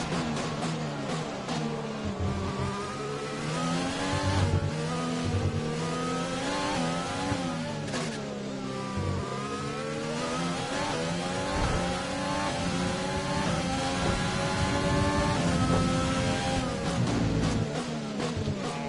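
F1 cars on the final lap in the F1 2020 racing game, at Abu Dhabi, with a steady loud high-revving engine whine that rises and falls through gear changes, heard close and continuous throughout.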